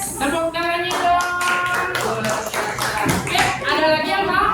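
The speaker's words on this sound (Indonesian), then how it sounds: "tepuk tangannya dong" Students in a classroom clap their hands in a brisk rhythm while voices chant or sing along over the claps, loud and close.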